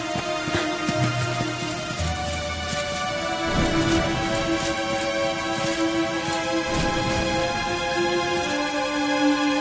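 Steady rain falls in Dragon Quest XI, a constant hiss under sustained musical tones, with no clear thunder standing out.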